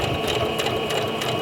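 A sewing machine runs continuously while stitching fabric in a short, close burst of rapid mechanical chatter with no pauses.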